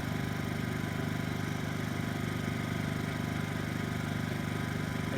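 A Honda inverter generator (EB2800i/EG2800i) runs in eco mode at reduced RPM, giving a steady, even engine drone with a low hum that holds unchanged throughout, with no talk over it.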